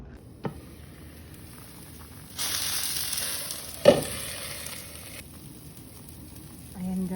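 Shredded cabbage and carrots frying in a pan, a steady sizzle rising as the vegetables are stirred, with a sharp clatter of the utensil midway and soft knocks around it.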